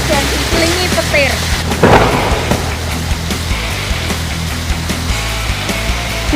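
Heavy rain pours steadily in strong wind in the Deswita Candirejo area, with a sharp thunder crack and rumble partway through, loud and close.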